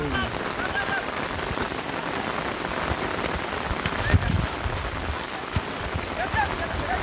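Steady rain falls and patters on surfaces during a rainy-day football match, a dense, continuous hiss with occasional louder drops and faint distant voices underneath.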